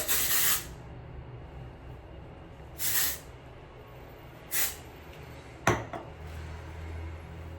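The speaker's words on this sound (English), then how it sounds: "you're gonna spray upwards" Four short bursts of hairspray hiss out one after another, separated by pauses, close by and fairly loud against a quiet background.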